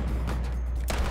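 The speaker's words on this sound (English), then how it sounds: "Oh, all these explosions." Dense, continuous rumbling explosions in the VR shooter Hot Dogs, Horseshoes & Hand Grenades, played on an HTC Vive, with overlapping blasts filling the whole moment and a sharper burst near the end.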